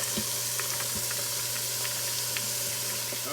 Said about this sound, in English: And then we're going to add celery and carrots and let them saute for another 3 minutes.